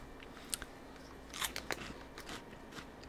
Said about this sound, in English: The crunchy and cheesy corn snack from the makers of Umaibo and is sure to cure any cheese craving